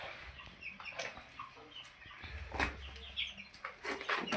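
Hens and young chicks cluck and peep softly in short, scattered calls, fairly faint, with a low rumble in the background.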